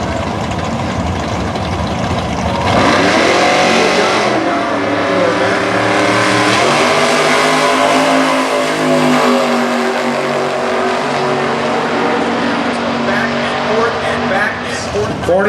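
A 1933 Ford Super Gas drag car accelerates hard down a drag strip, a loud engine roar that swells after a short idle and climbs in pitch through the run, with crowd and track noise around it.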